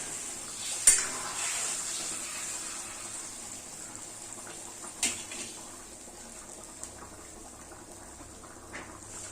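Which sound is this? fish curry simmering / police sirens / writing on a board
fish curry simmering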